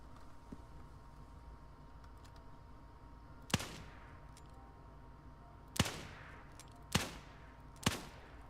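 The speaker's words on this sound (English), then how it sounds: "I've heard some gunshots." Distant gunshots ring out in the Wild West Online video game: four sharp cracks, one alone and then three closer together, each followed by a short echo over a low, steady outdoor ambience.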